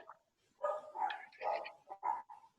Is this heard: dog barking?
yes